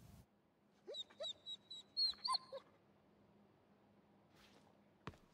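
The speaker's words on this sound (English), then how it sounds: "Oh, look at the doggy." A dog whimpers in Marvel's Guardians of the Galaxy video game, a run of short, high, nasal whines in quick succession, fairly faint over a low hum, followed by quiet ambience and a single click.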